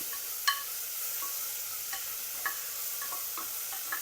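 Onions with salt added sautéing in a pan, a soft steady sizzle under occasional light clicks and scrapes of stirring, quiet and close with no talking.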